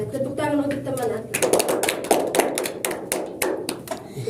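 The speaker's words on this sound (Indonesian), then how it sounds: "Tepuk tangan untuk teman aku" Pupils in a classroom lesson clap for a classmate, loud close hand claps in a quick, rhythmic run of sharp bursts that follows a brief moment of talking.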